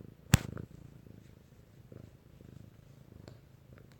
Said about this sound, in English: If you can hear purring, it's because my cat's right beside me